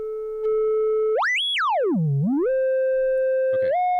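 A pure sine tone passed through a synthesizer filter holds steady, sweeps sharply upward, dives low, then settles back and steps up again, with faint clicks near the end and no voices.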